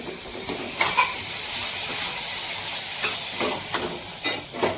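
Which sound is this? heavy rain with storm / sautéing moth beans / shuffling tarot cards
sautéing moth beans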